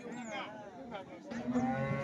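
A pregnant crossbred Sahiwal cow moos at a cattle market in Loni, giving a low, drawn-out call that rises and falls, fairly close and moderately loud, with faint voices under it.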